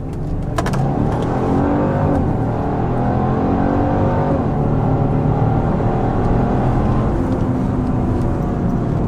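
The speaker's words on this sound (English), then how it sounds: "And here's how it goes from 0 to 60." A Genesis GV70 SUV in Sport Plus mode accelerates hard from 0 to 60 after brake torquing, its loud turbocharged engine droning and climbing through gear changes for several seconds, heard from inside the cabin with no voices.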